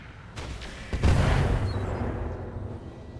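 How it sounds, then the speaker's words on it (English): Heavy gunfire and explosions in a video game: a couple of sharp cracks, then a loud booming blast that rumbles and slowly fades. "I'm under heavy fire."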